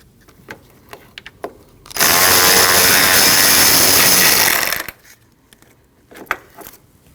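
A power tool runs for about three seconds at a steady high whine while backing out a T27 Torx bolt on the transmission cooler lines of a 2013-2019 Ford Escape 1.5L. Small metallic clicks and taps come before and after.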